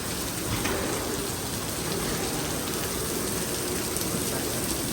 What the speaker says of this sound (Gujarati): ફૂલ વરસાદ ચાલુ છે.